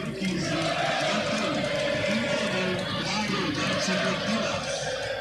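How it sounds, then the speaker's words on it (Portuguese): Guarani football fans sing in the stadium during a Brasileirão Série B match against Londrina, a steady rhythmic crowd chant heard at a distance, with a commentator talking over it. "O Grilo, olha, canta a torcida do Guarani."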